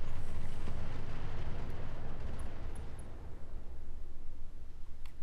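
A pirate mech's ammo rack explodes in the BattleTech mod Roguetech: a loud, dense blast with a deep roaring rumble that fills the whole clip and slowly thins out over several seconds, with no voices.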